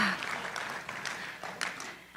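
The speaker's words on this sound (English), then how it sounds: "Give yourselves a hand clap." A church congregation claps hands in a brief, moderately loud burst of scattered applause, with a few sharper clap accents near the end.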